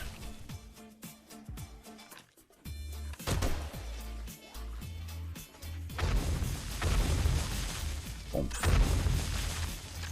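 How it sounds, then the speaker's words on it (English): Flame chain explosion in 7 Days to Die, landmines set off near enemies: a series of heavy booms and crashes building into a loud, rumbling burst of blasts, with no talk. "Flame chain explosion."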